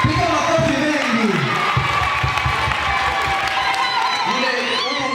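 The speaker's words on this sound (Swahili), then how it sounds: "Piga makofi mengi." A crowd at an FMCT Sector 4 gathering claps and cheers in a loud, continuous wash, with shouts and a voice speaking over the applause throughout.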